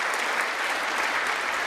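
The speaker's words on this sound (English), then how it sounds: "why are they clapping?" Audience applause fills the room, a steady dense wash of clapping from many hands with no pauses, loud and continuous throughout.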